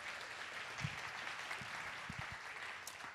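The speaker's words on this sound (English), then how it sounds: "let's give a round of applause for these people." A comedy-show audience applauds foster and adoption families: steady, dense clapping at a moderate, somewhat distant level that holds evenly throughout, with a few low thumps scattered underneath.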